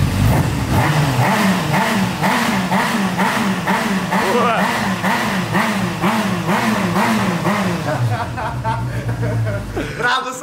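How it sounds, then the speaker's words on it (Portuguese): A motorcycle engine idles and revs with a rough, pulsing roar, loud and close, rising and falling in steady waves before settling down near the end, with people chuckling and talking faintly underneath. "pra não ouvir o ronco da horneteira."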